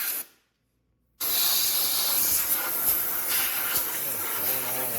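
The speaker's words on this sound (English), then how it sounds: "Blowing it out with some air." Compressed air blasts loudly and continuously to blow metal debris off snow thrower gear parts, starting abruptly after a second of near silence and hissing steadily to the end.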